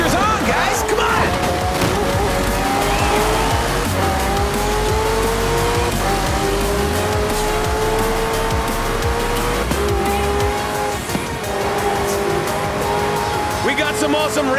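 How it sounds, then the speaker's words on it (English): Hypercars and racing trucks in a Forza Horizon 4 street race, engines roaring and rising through gears with tire squeal, loud and continuous under an excited announcer's voice. "We got some awesome racing trucks out there, too. The most incredible hypercars are all here."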